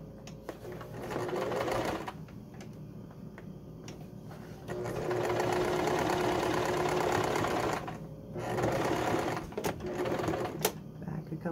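A sewing machine stitches a baby quilt in short runs, its fast mechanical whirr starting and stopping over about eleven seconds with brief pauses between bursts, close and steady.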